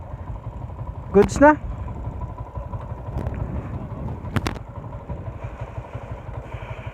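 A stock-engine Yamaha Sniper 150 motorcycle runs with a steady mid-pitched engine note throughout, under someone talking briefly near the start and a few short sharp clatters.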